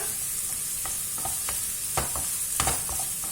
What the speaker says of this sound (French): Je vais faire revenir également l'oignon et l'échalote pendant 3 à 4 minutes